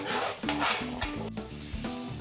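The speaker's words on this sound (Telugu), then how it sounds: "ఈ పేస్ట్ ఆయిల్ పైకి తేలేంత వరకు బాగా ఫ్రై చేస్తూ ఉండాలి" Spice paste frying in oil for a chicken masala curry, with a steady close sizzle and repeated scraping stirs throughout and no voices.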